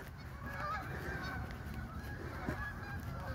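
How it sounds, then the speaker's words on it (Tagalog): Geese honking at a lake, a continuous overlapping chorus of nasal honks from a flock close by, with no talking. "nakita nyo yung mga pato"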